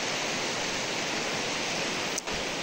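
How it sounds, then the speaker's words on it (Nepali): The Sharada river in Salyan, Nepal, gives a steady, dense rushing roar heard close and unbroken. Only a momentary dip interrupts it near the end. "यो शारदा खोला हाम्रो सल्यान जिल्लाको प्रमुख खोला पनि हो।"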